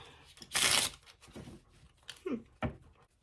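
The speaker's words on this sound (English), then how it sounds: "Now, I'm going to use my little super cute tiny deck. Doesn't always shuffle the best." A small, tiny tarot deck being shuffled by hand, a loud riffling burst near the start followed by a few shorter card flicks and taps, close and alone.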